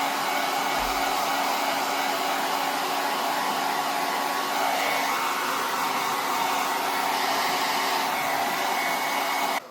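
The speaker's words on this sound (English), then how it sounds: "you're just gonna blow dry into the cap area" Hair dryer blowing into the cap area of a wig, a steady loud whooshing airflow that runs continuously and close for the whole stretch.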